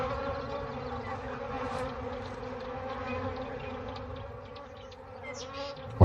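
Bees buzzing steadily around lions in the wild, a continuous droning hum of many insects at moderate loudness with no talking.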